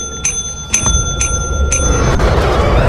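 A bell in Lethal Company rings four times in quick, evenly spaced strikes with bright metallic tones, followed by louder rumbling game noise.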